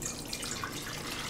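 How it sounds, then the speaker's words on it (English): Water pours steadily into a pot, two cups measured out for cooking Danish rice porridge, a soft continuous splashing close by with no voices. "first I'm going to pour 2 cups of water"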